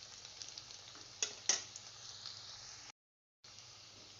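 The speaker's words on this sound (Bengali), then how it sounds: "দেখো, এক পিঠ ভাজা হয়ে গেছে।" Langcha sweets fry in hot oil with a soft, steady sizzle and faint hiss, broken by a couple of sharper crackles as pieces are stirred or turned; fairly quiet overall, with a brief silent gap.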